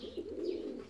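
Rostov fancy pigeons cooing in an aviary, a soft, low, continuous rolling coo close by, with faint higher chirps in the background and no voices.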